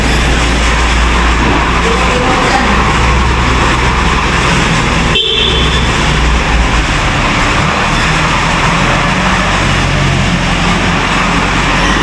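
A large vehicle rumbles loudly through an old tunnel, a dense echoing engine and road roar filling the space continuously, with a brief sharp clunk midway.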